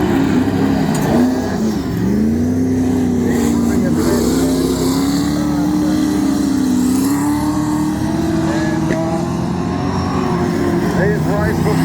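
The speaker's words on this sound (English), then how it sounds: "Steve Ludwig in the T5 car out there, followed pretty closely to McCarthy at the moment." AMCA race cars racing on a dirt track, engines droning and revving near and loud with a rising and falling pitch, under a commentator's steady talk.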